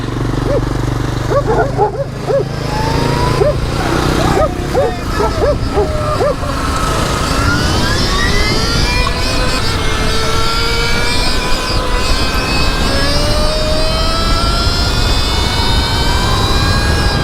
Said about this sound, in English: Oh, that's a two-stroke.